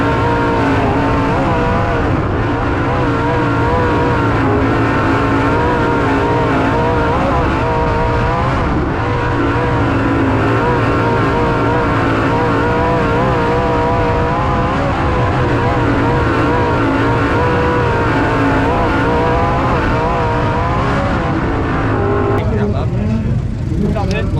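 410 winged sprint cars race at Santa Maria Speedway under green flag conditions. Engines roar loud and continuously with rising and falling revs as the cars lap nearby and pass by, a sustained dense racing din throughout.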